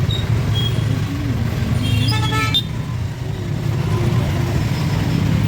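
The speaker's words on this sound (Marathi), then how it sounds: "मंडळी ट्रॅफिक बघा किती आहे" Steady road traffic rumbles nearby, with a brief horn toot and passing engine noise over a constant hum.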